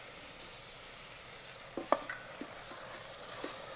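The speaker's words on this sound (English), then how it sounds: "Fry this for 5 minutes until it becomes soft." Chopped tomatoes and tomato puree fry in an Instant Pot for paneer butter masala, making a quiet, steady sizzle with a few soft clicks and taps of stirring.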